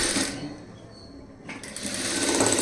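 A sewing machine stitches a blouse seam in short bursts, loud and close, with a brief pause in the middle before the motor picks up again.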